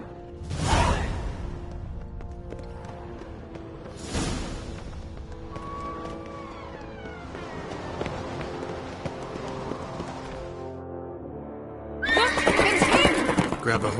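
A horse in the video game Skyrim whinnies loudly twice near the start, then hooves pound and rustle along with game sounds, ending in another shrill burst of neighing close by.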